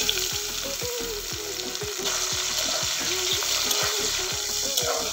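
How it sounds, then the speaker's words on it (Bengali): Chopped tomatoes fry with whole cumin in hot oil in a pan, a loud steady sizzle broken by rhythmic scraping strokes of a spatula stirring roughly every half second. "তো আগে টমেটোগুলো ভেজে নেব"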